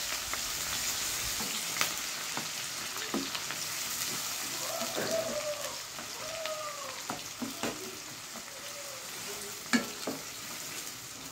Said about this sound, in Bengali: এখানে 5-7টা পেঁয়াজ আছে, এটাকে লাল লাল করে ভেজে নিতে হবে।